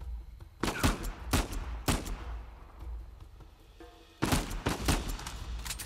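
Gunfire in Uncharted 4 in quick clustered shots: two volleys of sharp reports close by, a lull with fainter rumbling between them.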